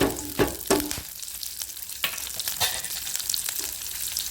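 Onion and chili sauté in a pan for a Tamil greens mash, a crackling sizzle with a few clattering stirs near the start, then a quieter, steady frying hiss.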